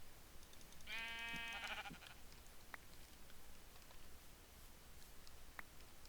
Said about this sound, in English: I have to actually kill some sheep.